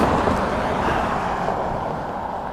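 Road traffic heard from a bicycle stopped at night, a dense steady roar of passing cars that stays loud and continuous with no break.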